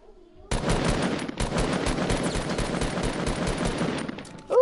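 Rapid automatic gunfire in a shooter video game, a loud sustained burst of closely spaced shots that cuts in sharply and runs for several seconds with barely a break.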